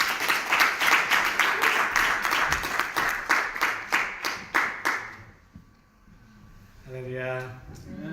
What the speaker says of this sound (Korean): 우리 목사님 박수로 인사하겠습니다